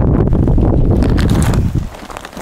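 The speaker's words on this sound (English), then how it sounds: "Getting very windy." Wind blows hard outdoors beside a fountain planter, a loud low rumble against the microphone that holds steady and then drops off into lighter gusts.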